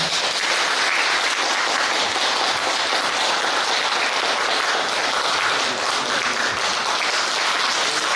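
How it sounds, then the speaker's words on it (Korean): A crowd at a political party founding rally gives sustained, loud, even applause for a speaker, a dense steady roar of many hands with no voices over it. "많은 박수 부탁드립니다"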